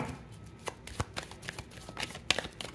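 Tarot card drawn from a deck: a handful of short, crisp card flicks and slides, close and fairly quiet, with no talk.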